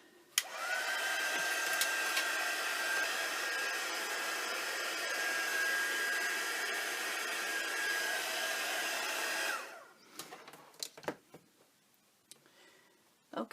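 A hair dryer blows hot air onto a distress-painted journal cover, a loud steady whir running for about nine and a half seconds before cutting off, followed by a few soft taps and handling noises.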